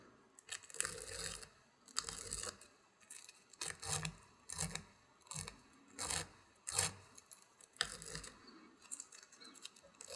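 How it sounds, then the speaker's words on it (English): A brush sweeps dubbing fibers down on both sides of a scud fly at the tying vise, a series of short close scratchy strokes in a steady rhythm, about a dozen passes. "I kind of sweep down on both sides and brush those fibers down"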